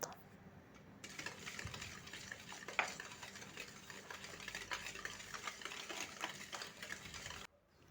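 Sugar and about three-quarters of a cup of oil being whisked together in a bowl, giving a steady close scraping and tapping rhythm that runs unbroken for several seconds and then stops abruptly.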